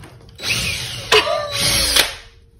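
Two short bursts of a power drill whirring up to speed and winding down, loud and close, with a sharp clack between them.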